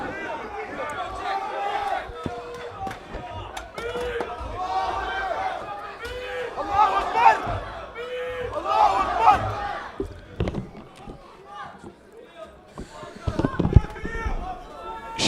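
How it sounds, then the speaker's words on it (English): A large crowd roars at a UMMA Fights boxing bout, Ishtiaq Ahmed against Khaleel Ashique of Coventry MMA, with dense overlapping shouts and cheers that swell twice mid-way and spike with sharp yells near the end. "Huge atmosphere for this boxing bout and a big crowd in favour of Khaleel Ashique"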